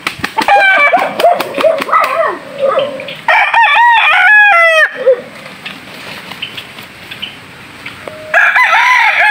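Several rooster crows ring out loud and near, repeated through the clip with clucking hens and other bird calls around them.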